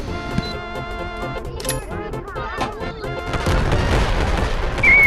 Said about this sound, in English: this kid just bombed me